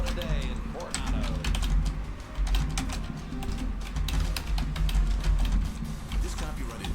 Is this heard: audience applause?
no